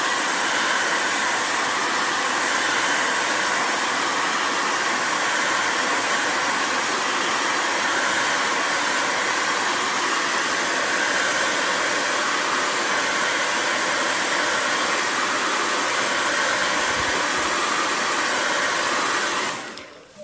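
A hair dryer blows steadily at close range as a loud, continuous rushing whir that holds for about twenty seconds, then cuts off abruptly.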